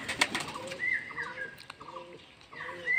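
Pigeons coo softly close by in short repeated calls, with faint rustles and wing flutters between them.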